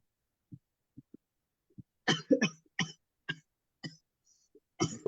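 A series of separate coughs from a patient at an Ayurvedic clinic consultation, about eight, starting soft and short then growing louder and harsher, fairly close, with brief pauses between bursts and no talking.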